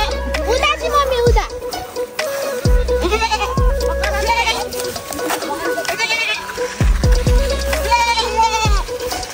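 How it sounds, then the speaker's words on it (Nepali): Herd of goats bleating repeatedly at a picnic, the calls overlapping one another under steady people's chatter and children's voices, with occasional thumps. "हाम्रो पछाडि चाहिँ यसरी बाख्राहरू लागिसकेका छन् देख्न सकिन्छ बाख्राहरूको झुन्डमा हामी छौँ"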